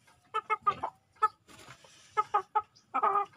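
A free-range backyard chicken clucks while being handled, a series of short, close clucks in irregular bursts with quiet gaps between them.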